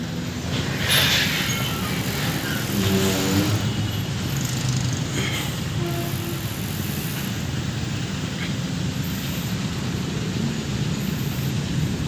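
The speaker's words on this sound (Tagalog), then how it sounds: "Maraming sasakyan." City traffic in Makati heard from a moving ride, a dense and constant roar of many vehicles with wind-like rushing noise and no speech.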